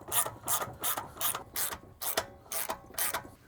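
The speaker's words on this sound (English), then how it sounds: "Trying to do it with the ratchet instead" Ratchet wrench being turned in close-up, about eight crisp clicking bursts in an even back-and-forth rhythm, alone with no talk.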